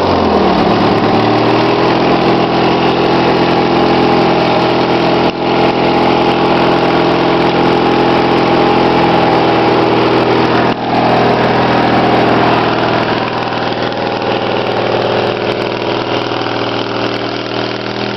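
Snapper lawn mower engine running steadily after a cold start on choke with some throttle, a loud, close, continuous idle drone that holds for the whole stretch with only slight dips.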